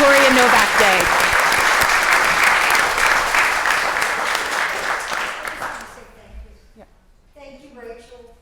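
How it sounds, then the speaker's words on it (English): An audience at a city council meeting bursts into loud, sustained applause with some cheering. It fades after about six seconds, and a voice then begins speaking close by. "If we can all just applaud one more time"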